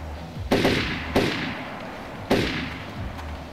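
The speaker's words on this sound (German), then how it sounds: "Es fallen Schüsse." Three sharp video game gunshots ring out in a Wild West setting, spaced unevenly, each with a short echoing tail, against a low steady background hum.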